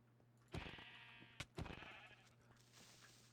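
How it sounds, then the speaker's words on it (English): In modded Minecraft, a sheep gives two clear bleats back to back, the second followed by a softer trailing call, over a quiet background hum. "It's the indestructible sheep."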